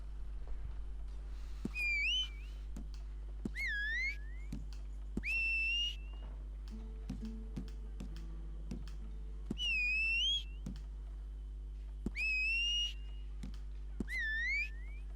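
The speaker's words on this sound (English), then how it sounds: "Whistle." A character in the Red Dead Redemption 2 video game whistles in short bright rising-and-falling phrases, repeated about six times at steady intervals over a low constant hum.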